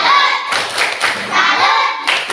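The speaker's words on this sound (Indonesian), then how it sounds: "Coba kita tepuk salut." A group of workshop participants does a rhythmic salute clap: a few loud, synchronized hand claps land in a pattern between chanted group shouts, close and energetic.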